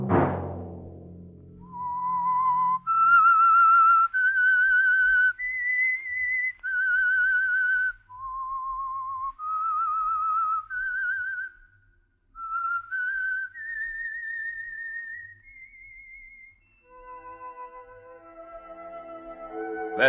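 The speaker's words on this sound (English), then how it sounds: "Let that whistle be your signal for the Signal Oil program, The Whistler" A lone whistler carries the eerie theme signal of the radio program The Whistler, a slow, clear melody of sustained notes rising and falling, heard alone after a brief opening chord.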